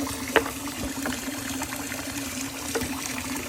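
Hot water poured into a measuring cup in a home kitchen, heard as a faint, steady trickle over a low hum, with a couple of soft clinks and no talking.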